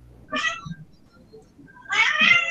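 A cat meows twice, a short mid-pitched meow followed after a pause by a longer, louder and more strained one, close to the microphone in an otherwise quiet space.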